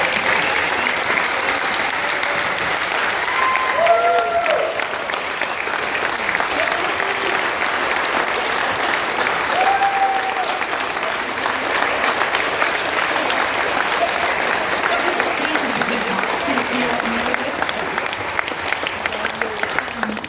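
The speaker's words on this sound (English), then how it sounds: "So now let's give them a round of applause." An audience gives candidates a sustained round of applause after a question session, dense, loud clapping running steadily for the whole stretch with a few voices calling out over it.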